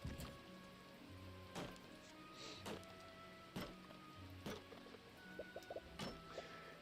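Rain falls in a video game, a very faint, soft hiss with regular sharp ticks and quiet tonal game sounds underneath, and no voices.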